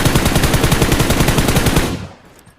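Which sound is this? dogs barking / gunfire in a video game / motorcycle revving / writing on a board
gunfire in a video game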